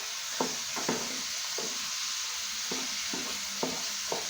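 Pumpkin sautés in a pan with a soft, continuous sizzle, broken by several distinct scraping stirs at irregular intervals, close and fairly quiet.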